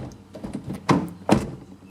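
A car door on a 2016 Honda HR-V shuts with two solid thunks about half a second apart, close and fairly loud, over a faint low background hum.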